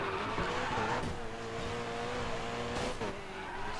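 Racing car in GRID 2 sliding out with a sustained engine drone and tire noise, a steady loud game-engine roar over nearly four seconds with a brief surge near the end, no talk.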